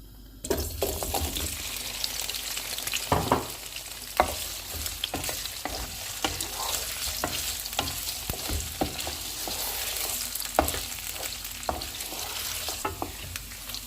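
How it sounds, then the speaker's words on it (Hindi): Pieces of paneer crackle and sizzle steadily in hot oil, with frequent sharp pops and occasional scraping stirs, fairly loud and continuous without talk. "ऑयल अभी गर्म हो गया है, इसमें हम चीज़ को फ्राई कर लेते हैं।"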